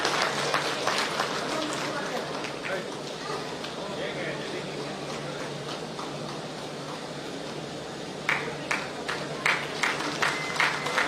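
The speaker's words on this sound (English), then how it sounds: "Can we all give a huge round of applause" Audience applause at an award presentation during an EV expo, a dense steady patter of many hands clapping from a large crowd, with a few sharper, louder bursts of claps near the end.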